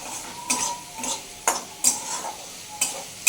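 Stirring and clinking in a pan as fish cooks in oil for doi katla, a Bengali home-style curry with yogurt, with a steady low sizzle under repeated sharp scrapes and taps spaced about half a second apart, close and fairly quiet.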